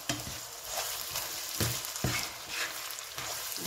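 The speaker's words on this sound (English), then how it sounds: "so we'll just add it in like that. And then we'll mix it up" Meat pie filling is stirred in a hot pan, giving close, rhythmic scraping strokes every half second or so over a constant frying sizzle, with no voices.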